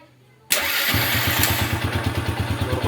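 A Yamaha Vega ZR motorcycle's electric starter cranks briefly, then the small engine catches and settles into a steady, close idle with an even chugging pulse.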